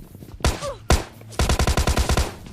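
Bursts of gunfire from enemy teammates in the mobile shooter PUBG Mobile Lite: two loud single shots, then a rapid, evenly spaced automatic volley of about ten close, sharp cracks, with no talking.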